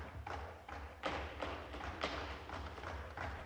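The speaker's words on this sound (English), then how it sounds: "The slow table thumping in the background. These are Pakistani lawmakers thumping the table." Pakistani lawmakers slowly thumping on tables in an assembly chamber, a series of faint, dull thuds in an unhurried rhythm heard at a distance.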